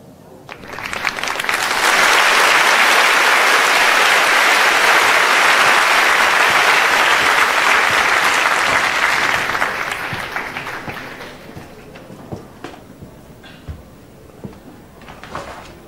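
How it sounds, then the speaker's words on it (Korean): An audience at a school piano recital applauds loudly for several seconds. The clapping swells quickly, holds, then dies away into scattered claps and faint room noise. "뜨거운 박수 부탁드립니다."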